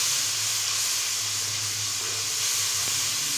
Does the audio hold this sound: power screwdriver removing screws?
no